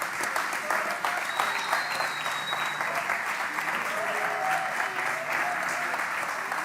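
A seated audience at a talk event gives steady, dense applause to welcome guest Lucho Fabbri; the clapping continues evenly throughout at moderate volume.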